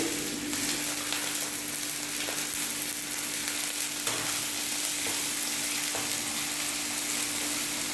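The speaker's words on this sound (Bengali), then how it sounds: "আলুগুলো একটু ভাজা হয়ে গেছে, আমি এখন একটু গাজরগুলো দিয়ে দিচ্ছি।" Potatoes and carrots frying in a pan, a steady close sizzle running throughout with faint stirring scrapes and no talk.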